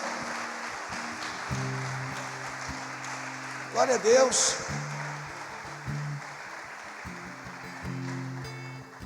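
Congregation clapping during an evangelical church service, a steady wash of applause under a preacher's loud amplified voice, swelling briefly around the middle.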